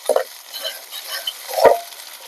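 Onions and ginger-garlic paste fry in oil for a cabbage and dried fish curry, giving a soft steady sizzle broken by a few louder stirring scrapes near the start and toward the end. No one speaks.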